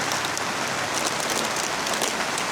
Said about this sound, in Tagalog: Ulan na naman mga idol.